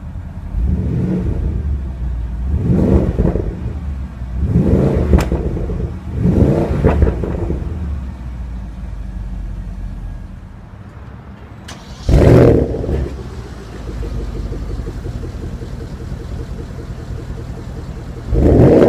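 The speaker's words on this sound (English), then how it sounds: "Now let's jump into the driver's seat, start it up, and see how it sounds" A 2015 Porsche Panamera Turbo engine cranking to life and revving, with several loud, rising and falling throttle blips, a quieter idling stretch, then a sharp, strong rev and a steady idle.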